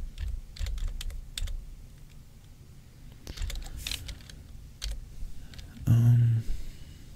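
Keys clatter on a computer keyboard in a soft-spoken coding session at the CMD.exe prompt, light scattered taps in short irregular bursts, close and quiet, with a brief louder rustle near the end.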